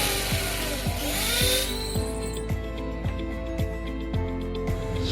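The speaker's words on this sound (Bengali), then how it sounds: "তো চলো ড্রিল মেশিনটা চালিয়ে ছেদটা বড় করা যাক।" A power drill enlarges a hole in a motorbike number plate holder, giving a high continuous whine with a regular series of rhythmic bites and knocks as the bit cuts. It is close and loud, and no voices are heard.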